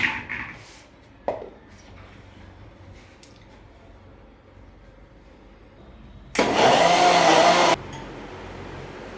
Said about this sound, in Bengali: এরপর আমি এটা মিক্সারে মিক্স করব।